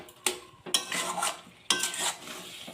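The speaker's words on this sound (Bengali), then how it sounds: "মিডিয়াম আঁচে নাড়তে নাড়তে অনেকটাই পাক হয়ে গেছে।" Coconut and jaggery mixture stirred in a pan over medium heat: three scraping strokes of a spoon against the pan with light sizzling, close and without speech.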